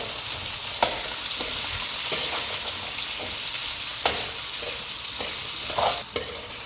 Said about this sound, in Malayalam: കൊച്ചുള്ളി 4 പച്ചമുളകും നടുവെന്ന് കീറിയതും അതോടിട്ട് ചെറുതായിട്ടൊന്ന് വാട്ടിയെടുക്കണം.